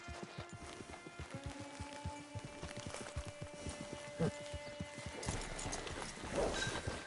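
A horse walks in the Red Dead video game, its hooves keeping up a steady clip-clop for the whole stretch, while faint game ambience and a brief tonal sound sit in the background.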